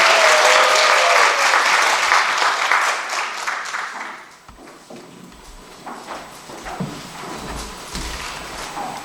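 Audience applause welcoming a local community official at a town citizens' meeting, loud and dense at first, then fading out by about four seconds into scattered movement and shuffling sounds.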